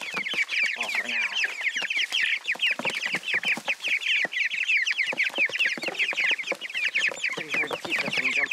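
Meat chickens being moved into a new run cluck in a dense, continuous chorus close by, many birds overlapping with busy, agitated calls throughout.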